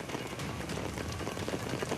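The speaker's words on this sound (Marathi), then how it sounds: "दादरसह अनेक भागांमध्ये पाऊस जोरदार बरसतोय" Heavy monsoon rain falls across Mumbai, a dense, steady broadband wash of droplets hitting surfaces without pause, fairly loud and continuous for the whole stretch.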